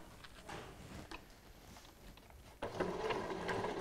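A sewing machine stitches along piping cord, a quiet rapid mechanical patter that grows louder and steadier in the last second.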